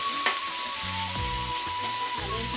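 Garlic sizzles in a little oil in a home kitchen pan, a steady close crackle with faint stirring and a thin whistling tone running throughout, no voices.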